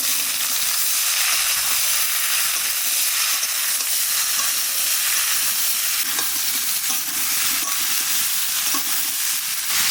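Ridge gourd hits hot oil in a pan for a Bengali fish curry, giving a steady, loud sizzle and hiss of frying that runs throughout, with some stirring scrapes and no talk.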